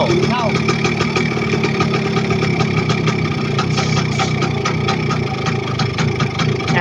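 A car engine runs loud and close as it is revved during an engine adjustment, a continuous rumbling drone with voices talking over it.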